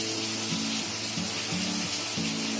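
Soybean kheema sizzles steadily in a pan over a medium gas flame, a continuous close frying hiss with faint low stirring or scraping pulses beneath it and no voices.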